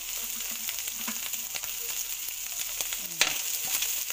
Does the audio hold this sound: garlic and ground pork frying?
yes